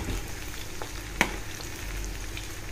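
Mushroom pieces frying in groundnut oil in a kadai, a soft steady sizzle with one sharp click partway through, fairly quiet and with no voices.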